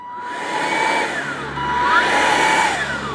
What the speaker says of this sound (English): let's go ahead and lock in the battery here. That looks to be of goodness. And let's give her a quick blow.